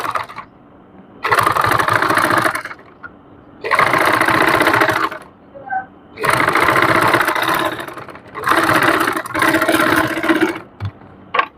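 Sewing machine topstitching along the edge of trouser fabric runs in four long loud whirring bursts separated by short quiet pauses, close up with faint handling noises in between.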